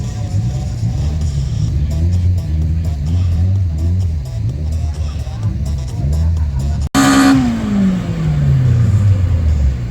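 A turbocharged Golf drag races a naturally aspirated car at a meet, its engine droning loud and steady, then cutting off abruptly before a high rev sweeps down in pitch as a car rushes past.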